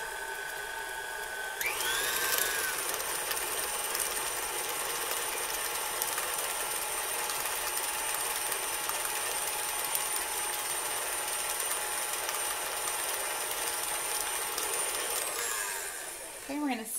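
An electric mixer runs on high speed, beating chocolate chip cookie dough. It switches on with a loud, steady whirring drone that holds constantly for about fifteen seconds, then cuts off at the end.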